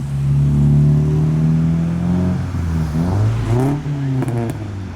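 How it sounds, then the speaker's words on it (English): A supercharged Mercedes pulling away from a car meet, its engine revving up with a rising whine, then easing off and climbing again, loud and close, with no talk over it. "Something supercharged, which is the Mercedes."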